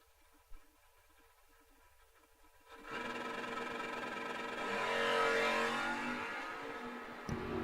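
A drag car launches from the start line at the Kil-Kare old time drags. A near-silent pause breaks into a sudden loud engine roar that builds and holds before cutting off abruptly.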